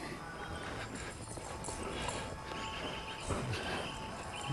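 A horse's hooves clip-clop at a walk on the ground while working cattle with a two-year-old horse, soft and fairly near, with faint background noise and a few firmer steps.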